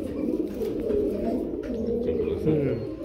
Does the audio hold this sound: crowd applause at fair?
no